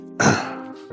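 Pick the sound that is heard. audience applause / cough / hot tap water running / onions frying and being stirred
cough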